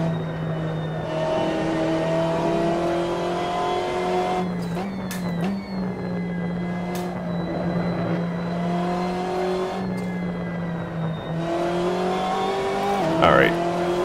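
Through a fast double right-hander in Assetto Corsa, a BMW M8 GTE race car's engine holds a steady drone with gear-change steps and thin high squeals from the tires, a voice talking over it.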